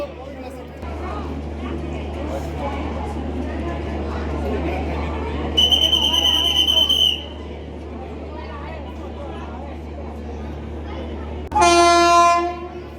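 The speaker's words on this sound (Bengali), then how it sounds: "ফাইনালি 15 মিনিট লেটের পর বন্দে ভারত ঢুকছে আমাদের শ্রীনগর যাওয়ার ট্রেন" A Vande Bharat express train pulls into a station on the way to Srinagar, a loud low rumble throughout with two sharp blasts of the horn, the second louder and nearer, while people chatter nearby.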